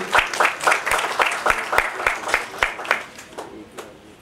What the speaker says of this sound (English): can we please clap for her